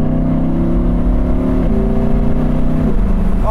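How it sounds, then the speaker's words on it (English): An Audi R8 Spyder engine drones loudly and steadily under load, its pitch stepping through gear changes up to fourth, close and continuous with no voices. "Here we go, under load, high gear,"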